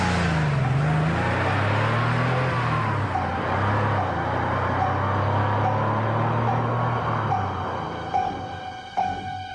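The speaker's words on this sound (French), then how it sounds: "la voiture de monsieur Timothée Eustache Macandal s'éloigne" A car, belonging to a man named Macandal, pulls away near the Marina del Rey, its engine note rising then gradually fading into the distance, with faint clicks near the end.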